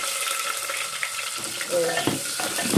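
Thinly sliced onions fry in a pan with garlic while being stirred, as part of an ivy gourd stir-fry. The hiss and sizzle are steady and close, with a few soft scrapes and clinks.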